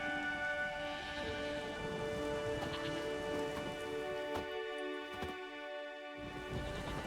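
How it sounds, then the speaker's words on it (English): Soft, steady rain falls in the video game The Witcher 3 beneath a sustained droning tone, with a brief hush partway through before the rain resumes. "There's no point standing here in the rain."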